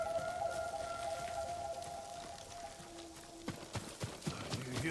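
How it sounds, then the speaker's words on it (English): Horse hooves clip-clop in the rain in the video game Ghost of Tsushima, starting as sharp irregular knocks near the end over steady rain patter and a faint tonal hum. "You hear that? Horses."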